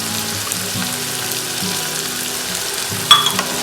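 Bajji chillies sautéing in a frying pan, a loud, close, continuous sizzle with a sharp clink of a utensil near the end.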